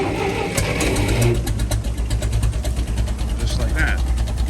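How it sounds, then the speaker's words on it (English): An old Massey Ferguson 135 tractor engine fires up and settles into a rough, slow, uneven idle, its low chugging beat sitting close and loud beneath a voice. "So we'll see now if she'll fire up again."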